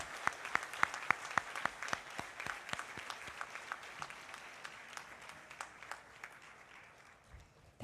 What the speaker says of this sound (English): Let's offer a round of applause as a collective appreciation for